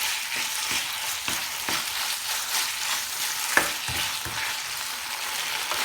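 Chicken pieces sauté in a hot pan for Kolhapuri chicken, with a continuous sizzle broken by a rhythmic series of scraping stirs and one sharper knock.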